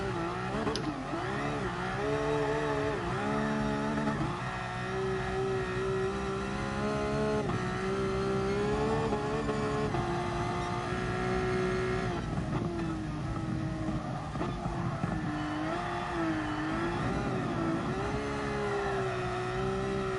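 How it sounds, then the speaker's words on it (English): Car engine in GT Sport revving and wavering in pitch as it drifts around the Nordschleife, a loud steady drone rising and dipping through gear changes for the full stretch, with no voices. "my revs are sounding a bit low"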